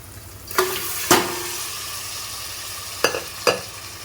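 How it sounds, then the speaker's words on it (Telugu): Boiled chicken being stirred into curry in a pan, a low steady sizzle under four sharp spoon scrapes spaced unevenly, close with no voices. "ఇదంతా కలిసేటట్టు బాగా తిప్పుకుందాం"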